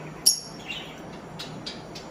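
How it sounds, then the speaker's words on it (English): Parakeets and budgies chirp inside a pet store, with a sharp high tweet near the start and a few fainter scattered chirps after it over quiet background noise. "Those are parakeets, and these are budgies."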